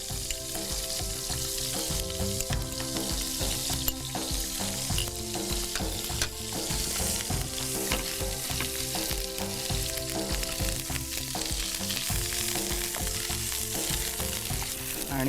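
Garlic paste and chopped green chillies frying in butter in a pan, a dense, steady sizzle and crackle that runs unbroken throughout, close and fairly loud, with faint stirring scrapes and no talking.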